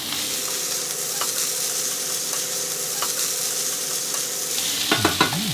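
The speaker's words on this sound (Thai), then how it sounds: "ใส่ผักลงไปแล้วก็ผัดคลุกเคล้าให้เข้ากันดีเลยครับ" Kale and onion stir-fried with fried rice and fermented pork in a wok give a loud, steady close sizzle, with light spatula scrapes and a few clanks near the end.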